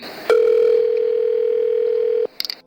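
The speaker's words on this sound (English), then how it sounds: "Trying to get Corey on the phone" A steady telephone dial tone sounds loud and close for about two seconds, then cuts off abruptly, followed by brief faint clicks.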